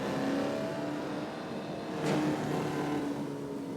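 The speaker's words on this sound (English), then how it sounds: "This is a great little car too, by the way." A small car's engine revving in a racing video game on the Isle of Man course. It is a steady, close, mid-pitched drone that swells slightly, with a brief whooshing pass around the middle.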